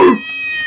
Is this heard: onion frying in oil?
no